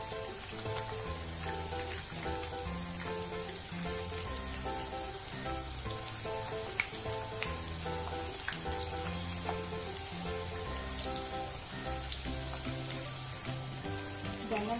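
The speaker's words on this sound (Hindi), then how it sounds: "ब्राउन होने तक फ्राई करेंगे" Eggplant slices sizzling in hot oil for baingan bhaja, a steady dense crackle and hiss close up, carrying on without pause, with music playing underneath.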